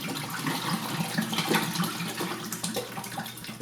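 Tap water running and splashing into a film processing tank during the wash stage of C-41 4x5 sheet film development, a steady broadband rush of filling water with no voices.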